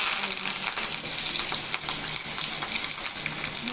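Curry leaves tempering in hot oil for tomato chutney, after mustard seeds, chana dal and urad dal have spluttered: a steady, close crackling sizzle with bright hiss and scattered pops, unbroken and without talk.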